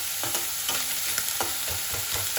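Chopped onions frying over a raised flame for a tilapia kalia, sizzling steadily with repeated stirring scrapes and clinks at a regular pace, no talk.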